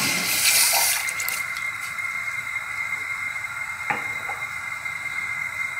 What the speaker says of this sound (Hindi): अब हम इसमें एक कप पानी है तो एक कप दूध ऐड करती हूँ मैं।